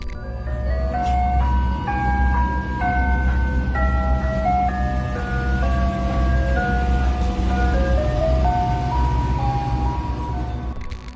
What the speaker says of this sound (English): Music playing, windows covered, moving slowly through streets that have no reason to have an ice cream truck at that hour.